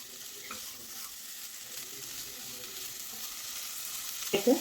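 Cauliflower and potato sautéing with salt in a pan, a soft continuous sizzle with faint stirring scrapes and a brief clatter near the end, quiet and close.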